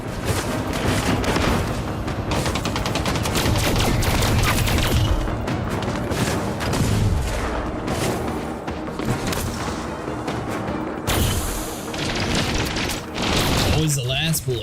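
Spaceship weapons firing in Elite Dangerous combat, a dense, loud, continuous barrage of booming shots and bursts that carries through the whole stretch, with voices talking over it.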